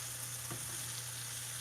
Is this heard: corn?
yes